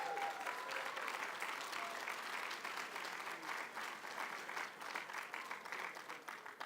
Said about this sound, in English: Can I hear some applause?